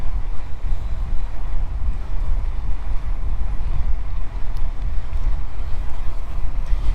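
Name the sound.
GoEagle electric bike riding off-road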